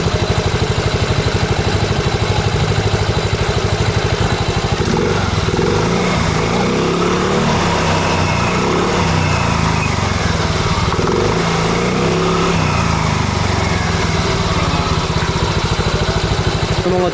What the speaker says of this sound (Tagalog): bakit kaya pagpag pa rin yung belt ko?